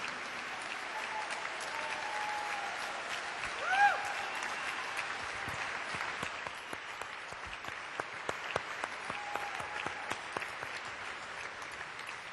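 Sustained audience applause in a large hall for a space shuttle astronaut crew standing to be recognized, a broad, even wash of many hands clapping, fairly distant, with occasional sharper claps near the end.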